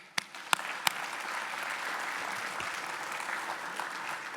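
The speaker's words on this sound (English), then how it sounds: "let's give them a round of applause." Audience applause at a senior career education awards ceremony: a few sharp early claps swell into steady, dense clapping from a moderately distant crowd, sustained without talk.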